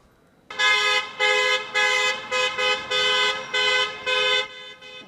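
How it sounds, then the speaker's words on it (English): Car horns honking in support of protesters marching outside a mayor's home: a series of about eight loud, sustained blasts in a fairly steady rhythm, close by, with no talking. "cars honked their horns in support"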